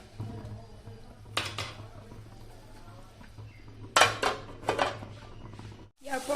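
A lid goes onto a cooking pot of boiled chicken in a home kitchen, making a few close metallic clanks and clinks over a steady low hum.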